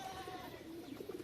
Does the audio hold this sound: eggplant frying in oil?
no